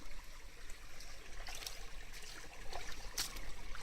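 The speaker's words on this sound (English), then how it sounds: "I've got the water out of the pan, Dave." Water trickles and splashes as it is poured out of a gold prospecting pan in a gully, a soft continuous dribble with a few brighter splashes, close but faint.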